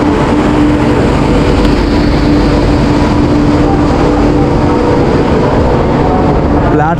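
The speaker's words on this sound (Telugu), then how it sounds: "మన ట్రైన్ ఎంటర్ అవుతుంది" A Duronto Express, number 12286, hauled by a Lallaguda-built locomotive, rolls into a crowded platform 6 with a steady, loud, broad rumble and hiss that holds without break throughout.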